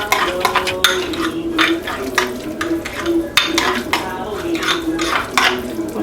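No-yeast pizza dough ingredients are mixed in a bowl, with a utensil scraping and clinking against the sides in steady, busy strokes, loud and close, with no one speaking.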